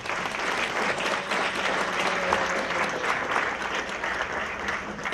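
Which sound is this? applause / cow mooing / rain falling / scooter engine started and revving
applause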